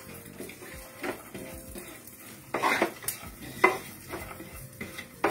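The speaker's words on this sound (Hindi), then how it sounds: "अब ये देखिए थोड़ा सॉटे होने लगा है" An oats mixture with melon seeds sautés in a pan, with a soft sizzle under repeated spoon stirs and metallic scrapes against the pan, a few sharper clinks standing out.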